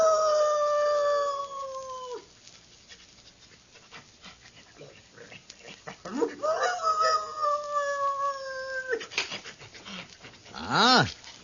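A sheriff's dog howling in a radio drama, several long drawn-out howls that rise and slide down, with a rougher, wavering howl near the end, fairly close and with no talk over them.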